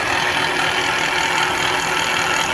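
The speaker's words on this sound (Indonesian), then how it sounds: "mulai menyalakan motor DC yang hitam itu motor DC berputar" A black DC motor driven by an Arduino Uno PWM signal spins with a steady, dense mechanical whir and faint tonal hum, constant and close with no variation or voices.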